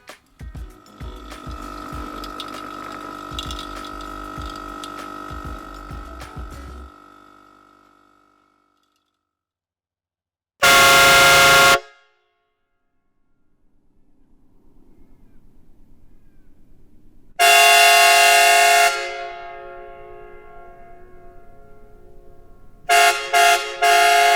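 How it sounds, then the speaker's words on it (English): Loud, sustained truck air horn blasts cut through after a stretch of mechanical noise, one long blare followed by a longer one and a final short burst. "it was cheaper for me to buy 2 truck air horn kits"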